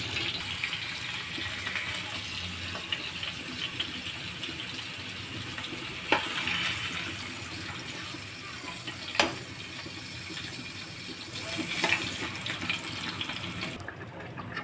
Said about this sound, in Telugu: ఇలా ఫిష్ బాగా ఉడుకుతుందండి